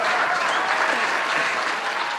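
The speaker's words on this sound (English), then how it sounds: "A round of applause for Faatiha." Audience clapping for Faatiha, a young aeronautical engineering enthusiast, a sustained, even wash of applause from a crowd, loud and continuous without pause.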